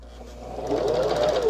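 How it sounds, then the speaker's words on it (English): A sewing machine runs as it stitches fabric, a steady mechanical whir close by that speeds up and grows louder within a second and a half. "you go ahead and start stitching"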